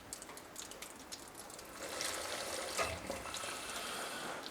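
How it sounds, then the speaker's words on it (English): Warm water mixed with Ajax filling a tube in a foundry, a soft trickle that swells into a fuller, steady rush of pouring liquid partway through, with no talking. "we can fill the tube with warm water and Ajax"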